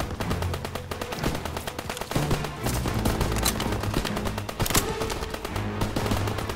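Rapid machine gun bursts and scattered rifle shots fill a Call of Duty WWII battle on Hill 493, loud and close, with dense rattling fire that keeps going through the whole stretch over a low rumbling background.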